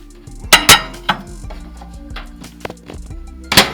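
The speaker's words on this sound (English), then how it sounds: "Rinse my pot out" Sharp clinks of metal and dishware as a pot is rinsed, a few scattered knocks against a quiet kitchen background, with two louder clatters near the start and one at the end.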